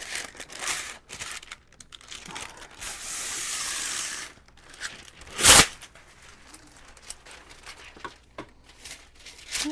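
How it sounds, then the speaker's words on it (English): Parchment paper is crinkled and pressed onto cookie baking pans in a home kitchen. The crackles are scattered and close, with a longer rustle and one sharp loud crinkle partway through. No one speaks. "I'm going to put some parchment paper on my pans."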